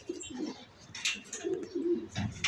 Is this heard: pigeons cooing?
yes